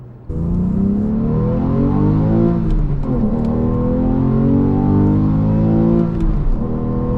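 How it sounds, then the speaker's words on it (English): A Porsche 911 of the 991 generation revs its engine high, a loud, close whirring howl that climbs in pitch over several seconds, drops briefly, then rises again with no one talking. "You always want to rev it up high."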